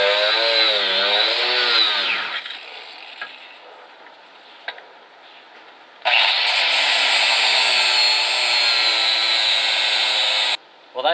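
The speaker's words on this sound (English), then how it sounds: "I'm just going to have to grind off the bracket so we can get this out." An angle grinder cuts off a rusted bracket on a 1972 SS, its whine loud and steady, then dropping away before a second long, harsh burst of grinding that stops abruptly.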